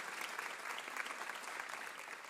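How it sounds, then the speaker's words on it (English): A live audience applauds the volunteer crew at a WoodSongs livestream concert, steady dense clapping filling the room from start to finish with no voices over it. "they deserve a big round of applause before we even start"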